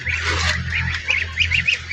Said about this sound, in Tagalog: Ito pa yung pato, yung anak din ng isang pato.